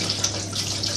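Tap water runs steadily into a sink as a dropped potato wedge is rinsed, a continuous close splashing hiss lasting about a second with no talk.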